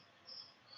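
A cricket chirps with a thin, high, steady trill, faint and brief against a hissy background with no one speaking.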